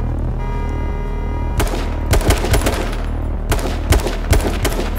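Gunfire in the battle royale video game H1Z1: a few loud, sharp bursts of shots crack out over a steady low game background, clustered in quick rapid-fire groups.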